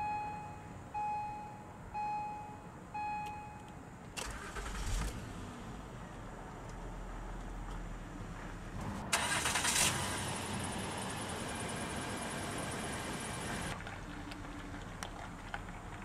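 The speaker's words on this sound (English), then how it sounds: "let's go ahead and start the engine" A 2007 Acura MDX engine cranks and starts with a brief starter burst, then settles into a steady idle. A few faint beeps come first, and a loud hissing roar follows the start.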